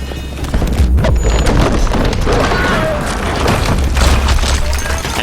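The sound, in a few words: explosions in the video game Battlefield: Bad Company 2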